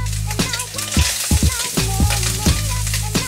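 Garlic, onion and peppers hitting a hot wok after cooked egg, a loud close sizzle with a few clanks and scrapes of a utensil against the metal.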